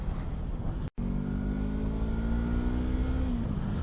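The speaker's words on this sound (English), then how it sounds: "This bike's got a really good sound to it too." A 2015 Yamaha R3 motorcycle on its stock exhaust with the can removed gives a steady, loud engine drone. After a brief dropout it holds a sustained pitch, then eases off near the end.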